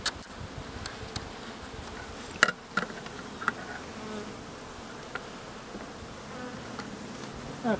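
Honeybees in an open hive make a dense, continuous buzzing close by, with a few sharp ticks and clicks scattered through it and no talking.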